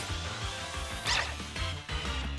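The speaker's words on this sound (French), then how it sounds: "un vol toutou sauvage apparaît" A wild Yamper, the electric puppy Pokémon, cries in Pokémon Shield with a short run of yappy, bark-like yips and whimpers over game music, loud and close.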